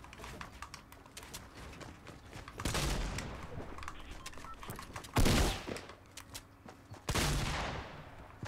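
Gunfire in the Fortnite Battle Royale video game: scattered sharp shots over low game ambience, with three louder bursts standing out, the last two close and punchy.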